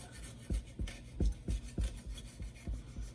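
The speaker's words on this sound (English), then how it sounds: "I'm gonna use a rubber spatula to scrape the edges so it doesn't get stuck in our Bundt pan." Rubber spatula scraping around the edges of a Bundt pan holding a baked apple cake, a series of soft, close rasping strokes in a steady rhythm, each stroke a brief rubbing pass with quiet pauses between.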